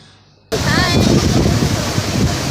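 Evening surf at Yarada Beach roars in after a brief quiet start, a loud, close wash of breaking waves mixed with gusting wind buffeting the microphone.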